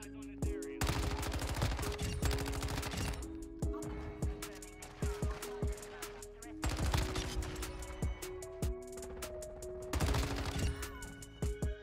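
Rapid bursts of Chimera rifle fire in Modern Warfare 2, several loud staccato volleys separated by short pauses, with single shots and game ambience between, and a player talking over the action.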